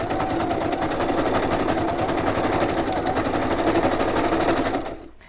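A sewing machine chain-pieces fabric in one steady, fast, loud run of stitching that carries on without a break, then stops abruptly near the end.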